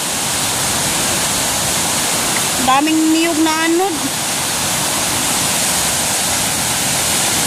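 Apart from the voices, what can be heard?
river water flowing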